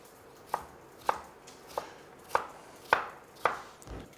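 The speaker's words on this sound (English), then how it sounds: "take one slice down and slice the rest up" A knife slices a potato held on edge on a chopping board, with seven crisp evenly spaced chops in quick succession, close and distinct over a quiet background, no talking.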